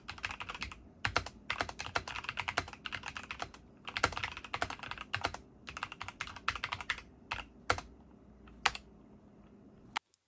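Quick bursts of typing on a Logitech G715 mechanical keyboard with linear switches, close up, in fast irregular runs of keystrokes broken by short pauses, ending on a few isolated taps.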